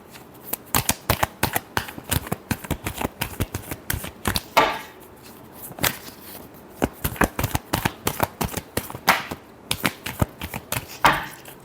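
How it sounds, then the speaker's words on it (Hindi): Tarot cards are shuffled close up in a rapid series of crisp, papery riffles and slaps, arriving in uneven clusters with brief pauses. "Last shuffle."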